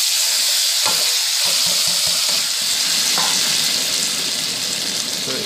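Flat beans fry in a pan with cumin and chili in a loud, dense, continuous hiss, while a few spatula knocks land in the first seconds.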